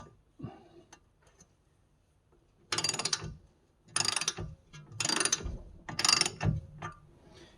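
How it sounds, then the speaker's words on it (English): Four loud bursts of a pneumatic impact wrench hammering away on a VW Caddy's front suspension, each lasting under a second, separated by brief quiet clinks and handling noises. "I shall use our old-fashioned air-powered rattle gun"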